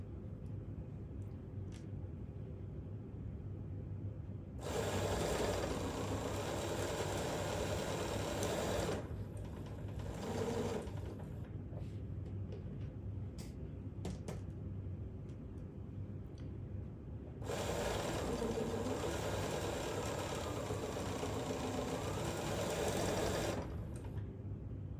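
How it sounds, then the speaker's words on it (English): A sewing machine chain-piecing Sawtooth Star quilt blocks runs in two long, loud bursts of steady stitching, broken by a short pause and scattered clicks in between. "So you just keep on going together in the machine like that."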